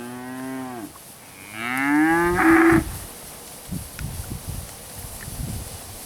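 Angus-sired heifers low loudly at a cattle sale, with two drawn-out moos up close followed by shuffling and rustling from the herd.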